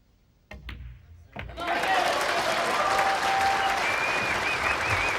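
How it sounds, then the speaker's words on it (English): After a couple of ball clicks on the table, the crowd at a 2012 World Pool Masters nine-ball match bursts into loud sustained applause and cheering with whistles, continuing to the end. "Now when the 9 goes in, as it surely will, just listen to the cheer again."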